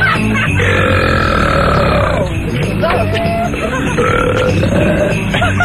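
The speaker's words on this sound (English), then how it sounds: "guys do belch better than women" Several men belch loudly one after another on a live 1988 rock radio broadcast, with a studio crowd murmuring and cheering underneath and no clear speech over the burps.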